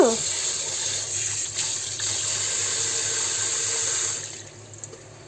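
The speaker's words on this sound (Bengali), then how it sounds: "মাংসটা ভালো করে ধুয়ে নেব।" Tap water runs steadily over meat being washed in a home kitchen sink, a continuous close splashing hiss that fades near the end.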